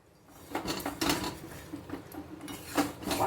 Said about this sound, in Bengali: ঢাকা দিয়ে দেবো, ঢাকা দিয়ে দিচ্ছি